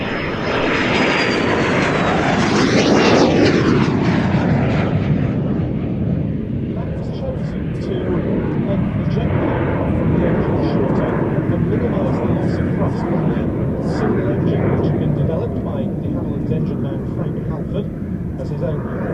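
A de Havilland Vampire twin-boom jet with a Goblin engine flies at an airshow. A loud, continuous roar swells and sweeps past around three seconds, then holds steady while a commentator talks over it.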